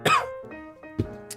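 A single sharp cough close to the mic, followed by a couple of softer throaty hacks, with no talking.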